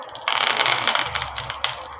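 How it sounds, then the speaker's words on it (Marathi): Curry leaves tossed into hot oil with popped mustard seeds, a dense crackling spatter that flares up suddenly and keeps sputtering close by, with no talk. "कढीपत्ता पण चांगला तडतडलाय"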